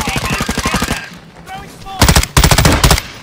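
Rapid gunfire in the Warzone 2.0 video game during a ranked match, with loud, close bursts of automatic-sounding shots in quick succession, broken by a short gap and resuming more intensely.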